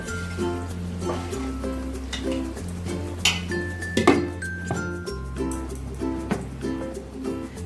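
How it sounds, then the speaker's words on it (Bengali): A lid goes onto a cooking pot of chicken with a few metallic clinks and a sharper clatter near the middle, close and moderately loud over a steady tonal background. "আবারও আমি ঢেকে দেব"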